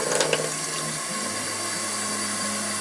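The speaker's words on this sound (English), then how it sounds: "Turn on the water." Kitchen tap turned on and running water into a sink, a steady close rushing flow after a brief clatter at the start, heard alone without speech.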